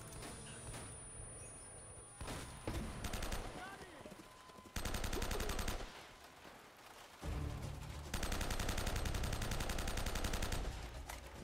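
Enemy gunfire in Uncharted gameplay: sustained bursts of rapid automatic fire in several long loud stretches, broken by brief quieter gaps, with someone talking faintly between them.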